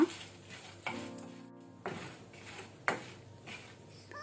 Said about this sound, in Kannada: ಲವಂಗ, ಸ್ಟಾರ್ ಮತ್ತೆ ಕಾಡಮಮ್ ಏಲಕ್ಕಿ ಹಾಕೊಳ್ತಾ ಇದ್ದೇನೆ. ಸೊ ಇದನ್ನು ಸಹ ಲೋ ಫ್ಲೇಮ್ ಅಲ್ಲಿ ಕೆಂಪಾಗೋ ತನಕ ಹುರಿಯುವ.